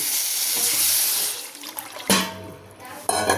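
Rasam splashes and pours into a pan with a hissing, watery rush, followed by sizzling and clinking as dal water is added; a voice talks in between.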